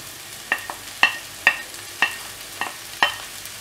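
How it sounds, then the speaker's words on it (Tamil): Tomatoes sautéing in a pan for a chickpea curry, with a spoon stirring in about six evenly spaced scraping strokes over a faint, steady sizzle; close, moderately quiet, no talking. "தக்காளி ஆட் பண்ணிட்டு இது நல்லா வதக்கிடலாம்"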